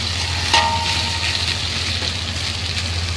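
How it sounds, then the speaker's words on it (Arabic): Rice grains frying in oil in a pot for Bedouin-style lamb mandi, a steady close sizzle with a brief stirring scrape near the start, no talking. "عايزة الرز يتشمع بالزيت وكل حباية رز يطلعها زيت"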